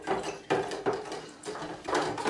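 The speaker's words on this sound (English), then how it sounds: "I'll continue stirring." Sanitizing solution is stirred in a container for a home beer kit, making repeated scraping, sloshing strokes in an uneven rhythm, close and fairly loud.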